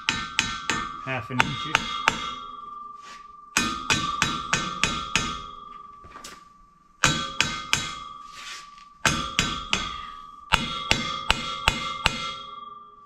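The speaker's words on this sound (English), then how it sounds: "So let me get a hammer." Bursts of rapid metallic hammer blows ring out against the suspension parts of a 1980 Chevrolet Malibu, in several clusters with short pauses; a voice speaks briefly.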